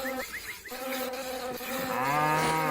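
Flies and mosquitoes buzz in the Meena video game during a cow-milking scene, a steady droning hum that swells louder toward the end, heard alone without talk.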